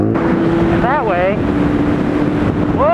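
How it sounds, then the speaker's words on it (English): Wind buffets the microphone with a low rumbling roar, while a voice talks over it. "Whoa, it's windy!"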